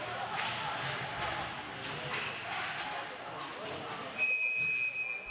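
Referee's whistle at a high school ice hockey game in a rink, a steady tone entering near the end over crowd murmur, skate noise and a commentator's voice.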